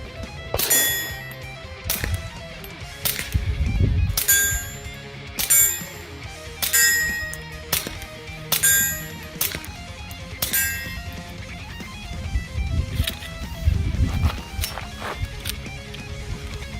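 A suppressed rifle fires around a dozen sharp, clanging reports at an outdoor range, spaced in irregular bursts with short pauses between them. The shots are fairly close and heard alone.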